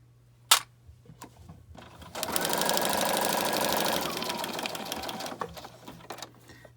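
A sewing machine stitches accordion journal covers together in one steady, rapid run of a couple of seconds, close and clear, framed by a sharp click before it and a few quiet handling taps after.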